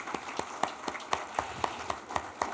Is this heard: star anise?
no